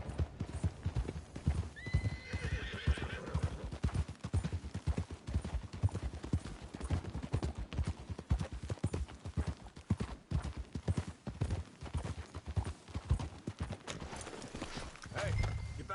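Horse hooves clip-clop in a steady, dense rhythm across the whole stretch, with a loud whinny early on, from Red Dead Redemption; scattered voices and game sounds mix in beneath the galloping.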